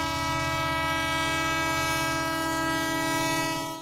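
Train sound effect with a loud, sustained multi-tone horn blast held steadily for several seconds over rolling rail rumble, then tapering off at the end.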